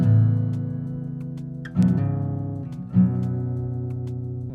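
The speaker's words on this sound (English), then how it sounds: "So the hammer-on sounds like this." Acoustic guitar strums in a pattern, each chord ringing out and followed by a quick hammer-on note, repeated three times at close range with no voice.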